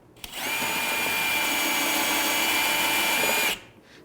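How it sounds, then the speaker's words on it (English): Power drill with a 1/2 inch bit boring a hole while installing a top case light on a 2018 or later motorcycle, a loud, steady whining buzz held for about three seconds before spinning down. "you're going to take your bit with a 1/2 inch and you're going to push it against there and just go ahead and make that hole"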